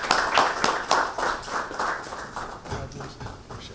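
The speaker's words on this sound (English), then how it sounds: "Let's give him a round of applause." An audience applauds interim head coach Chad Lunsford at a Georgia Southern gathering, with rhythmic, fairly close clapping that swells at first and gradually thins out over a few seconds.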